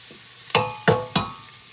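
Garlic sautéing in a pan for Filipino noodles, three sharp scraping stirs with metallic ringing over a faint sizzle, close and fairly loud.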